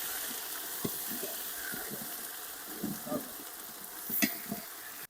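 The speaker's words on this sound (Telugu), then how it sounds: "ఆనియన్స్ బాగా వాడిన తర్వాత అల్లం వెల్లుల్లి పేస్ట్ అయితే వేసుకుందాం" Ginger garlic paste fries with onions in a pot for biryani, cooked outdoors in a banana grove. A steady hiss of sizzling runs throughout, with a few soft scrapes and knocks of stirring, and no voices.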